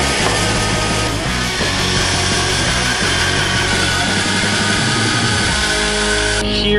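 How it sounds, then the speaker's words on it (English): A bandsaw resaws a 3/4 inch oak board down toward 1/4 inch, giving a loud, steady mechanical roar with a constant blade drone that carries unbroken to the end, where the cut finishes. "I'm gonna attempt to go resaw it on the bandsaw"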